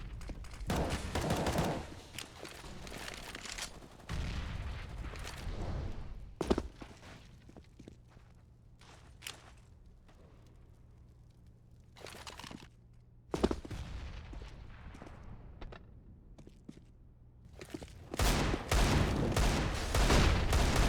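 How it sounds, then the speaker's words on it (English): Gunfire in Counter-Strike on the Mirage map during a competitive match, with bursts of shots coming in clusters separated by quieter gaps, loud at times and fainter at others, with no talk over them. "Few shots coming through as the pistols fortify themselves up on towards the A site"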